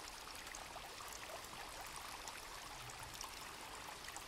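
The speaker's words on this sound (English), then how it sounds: "Oh, here we go. There's some water." Flowing water in a video game makes a faint, continuous trickling stream sound, soft and steady throughout, with no voices over it.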